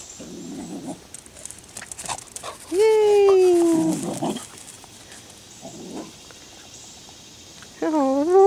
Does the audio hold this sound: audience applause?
no